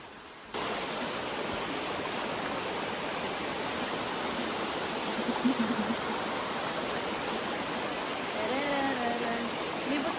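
A waterfall roars in a steady, dense rush close by, continuous throughout, with faint voices talking briefly underneath.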